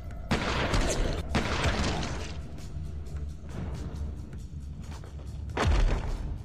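In a film scene, a rifle is fired repeatedly at the head of a lion king. Loud bursts of rapid shots come in clusters, mixed with heavy thuds and booms, with quieter rumbling stretches between the volleys.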